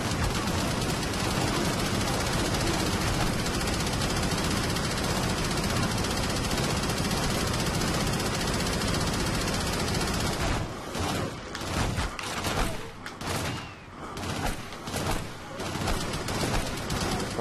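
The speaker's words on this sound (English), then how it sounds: "Use your minigun to kill all the enemies." Sustained minigun fire in the Xbox 360 shooter Shadowrun, a dense unbroken roar for about ten seconds before breaking into shorter choppy bursts with gaps, loud and close throughout.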